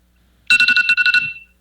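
A mobile phone ringtone goes off during a budget hearing, a loud, bright electronic melody of quick pulsed notes that plays for about a second, stops, then briefly starts again.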